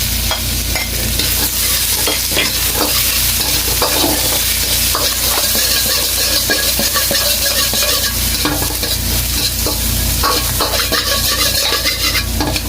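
Shrimp, about 50 grams, stir-fry in a pan for Solaria-style fried rice, giving a steady loud sizzle with scraping stirs throughout, close up and without talk.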